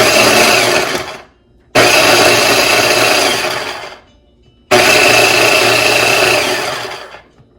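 Roasted eggplant and cauliflower whirl in a blender in three loud, close bursts, each a harsh, buzzing motor roar that winds down before the next start, separated by short silences.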